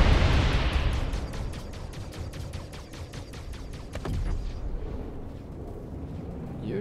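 A missile strikes a Vanduul hunter ship in the Star Citizen space combat game, giving a loud explosive burst at the start. A dense rapid series of crackling impacts follows, then another sharp hit near the end over a continuous engine rumble.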